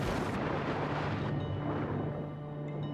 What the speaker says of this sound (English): There we go, grenade.